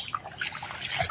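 Rainwater trickles and drips nearby, with faint irregular droplet plinks over a soft watery wash, brief and quiet.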